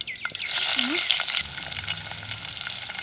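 Onions being fried in oil in a clay pot with whole spices for country chicken curry, a steady loud sizzle with stirring clatter throughout, dipping slightly partway.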